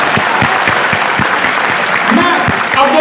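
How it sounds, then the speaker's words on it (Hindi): Audience at an Independence Day Hindi poetry gathering claps briefly, a short burst of applause with some voices mixed in. "तालियां हो जाएंगी।"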